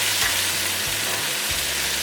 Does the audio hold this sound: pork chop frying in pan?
yes